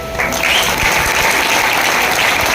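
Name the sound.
audience applause at a presentation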